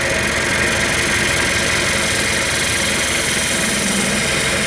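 Small wood piece spinning on a lathe at 1600 RPM while being turned, a steady continuous mechanical hum and whir with broad high-frequency hiss, fairly loud and unbroken, with no talking.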